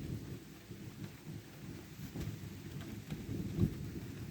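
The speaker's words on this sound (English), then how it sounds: "Wait, the thunder should be loud." Low thunder rumbles through a thunderstorm with rain, rolling faintly at first and swelling near the end over a steady wash of rainfall, with no voices.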